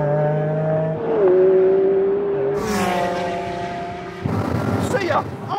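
McLaren car in a drag race against another car, engine droning steadily then rising in pitch as it accelerates, with wind noise and a voice talking over it.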